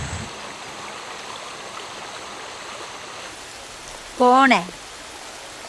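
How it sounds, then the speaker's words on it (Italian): Rain falls on the Amazon forest in Waorani territory in Ecuador, a steady, dense, even hiss throughout, briefly broken by a short spoken word. "Sta piovendo di nuovo."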